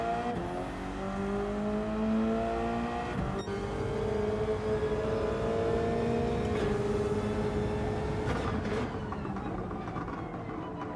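The Subaru BRZ race car in Gran Turismo 7 drones loudly and steadily as its engine holds high revs. Pitch climbs and dips with a couple of gear changes, tire noise sits underneath, and the engine runs alone without speech.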